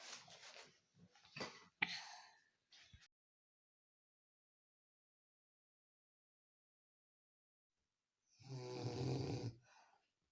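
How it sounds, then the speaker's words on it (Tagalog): A sleeping mother snores, with a couple of loud rasping snores early on, a long silent gap, then one long heavy snore near the end, close and alone. "Malakas yung signal ng hilik ni nanay."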